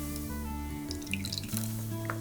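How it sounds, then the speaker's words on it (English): Excess lemon juice poured off sliced apples, a light trickling and dripping of liquid heard close, running steadily beneath sustained background music. "then we want to pour off that excess lemon juice"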